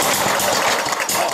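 A Billy Goat leaf blower's small engine runs loud and close, a rough, continuous roar with an uneven, throbbing pulse.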